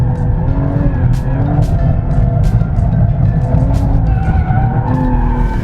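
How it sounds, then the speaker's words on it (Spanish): A BMW 2 Series Coupe drifts with its engine droning loud and close while the tires squeal and skid steadily throughout, over a constant rumble. "Mira, puedo derrapar aquí."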